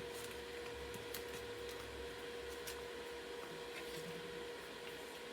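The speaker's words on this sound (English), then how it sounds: "That's my water heater." A household water heater hums steadily in the background, a constant low drone with a faint tonal line running unchanged through the whole stretch, with no talk over it.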